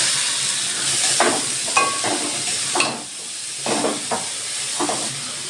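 Cauliflower pieces drop into a hot pan of fried ginger, giving a steady close sizzle and hiss broken by several stirring scrapes and bursts of frying.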